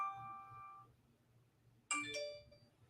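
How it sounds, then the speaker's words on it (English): A phone plays its startup chime as it is switched on. A soft, sustained tone is followed after a pause by a brighter, layered jingle, both faint and close, with no speech. "There, the phone because I've just turned it on"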